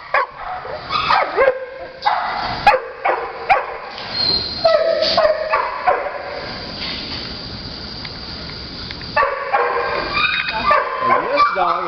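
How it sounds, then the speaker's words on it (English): A 10-month-old male Pomeranian puppy barks and yips in quick, uneven bursts with a few whimpers, fairly loud and close, with voices and background noise mixed in. "And this dog is a puppy."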